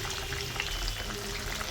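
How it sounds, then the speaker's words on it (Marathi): Surmai (kingfish) sizzles steadily in hot oil, a soft continuous crackle and bubbling heard close up with no talking. "आता हा पण सेम तसाच तळायचा आहे."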